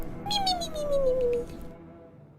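A cat meows once in the video game No I'm not a Human, a clear, loud, drawn-out call that falls in pitch and fades into quiet.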